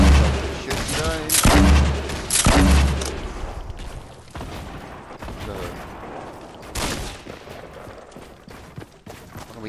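Rapid bursts of gunfire in Fortnite, loud repeated volleys and booming shots up front that thin into scattered fire, with voices talking over the game.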